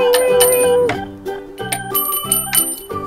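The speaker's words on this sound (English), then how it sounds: "Rubble, it's your job to ring the bell." A toy bell on a Paw Patrol fire station playset rings in quick bright dings, a sustained ring followed by a rapid series of clear metallic strikes, close and loud.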